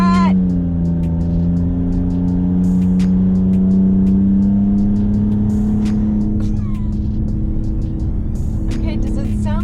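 A McLaren accelerating hard under launch control, its engine a loud rising drone climbing steadily in pitch for several seconds before a gear change, heard from inside the car, with people speaking over it.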